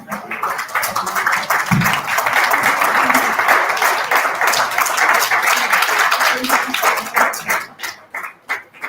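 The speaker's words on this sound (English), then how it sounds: "Give a huge round of applause for him." A conference audience at a physiotherapy event breaks into sustained applause, loud and even, then thins into scattered final claps as it dies away near the end.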